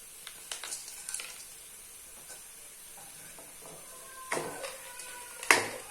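Halwa fries on low flame in a pan, with a steady soft sizzle under scattered scrapes and clinks of stirring, and a louder rattle near the end as nuts drop in; nobody speaks.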